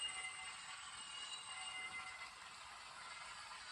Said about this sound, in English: We do have to be going quite slowly for the flange squeal to work